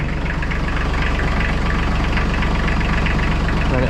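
An Iseki TLE3400 compact tractor's diesel engine idles up close, loud and steady, its rapid even knock pulsing throughout with no voices.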